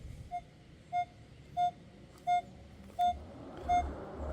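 A Minelab Manticore metal detector sounds six short, evenly spaced beeps as it passes over a silver thimble buried in a test garden, clear against faint background hiss.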